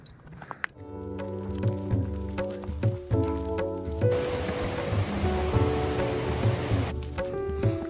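A rain shower patters steadily on a hiking trail near Piegan Pass in Glacier National Park, a broad hiss of drops with a few footsteps and rustles mixed in.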